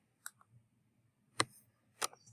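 A few scattered keystrokes on a computer keyboard: three or four sharp, isolated clicks spread over a couple of seconds, faint and close, with no talking.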